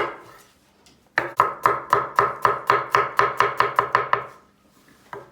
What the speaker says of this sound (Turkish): Patatesler ocakta haşlanırken hemen soğanını doğrayacağız.